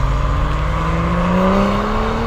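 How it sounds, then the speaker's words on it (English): Modified street racing cars revving hard, a loud sustained engine roar with rising pitch held steadily throughout, no talk. "The sound created by these modified cars echoes around the streets for hours."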